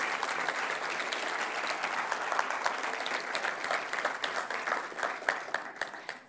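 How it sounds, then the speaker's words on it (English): A large audience applauds the teams at a demo day event, dense continuous clapping at a steady, loud level that swells slightly toward the end. "let's give a big round of applause to all the incredible teams for their outstanding performances"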